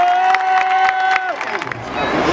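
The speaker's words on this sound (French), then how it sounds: "un tonnerre d'applaudissements pour ces paroles qui viennent de son cœur" A crowd at a march for Palestine bursts into loud applause and cheering, dense clapping with shouts rising over a fading tone.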